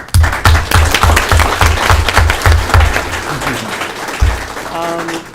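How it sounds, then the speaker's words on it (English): Members at a general membership meeting give a round of applause, loud dense clapping from a crowd with a pounding low thump pattern beneath, fading toward the end as a voice begins speaking. "please give them a round of applause"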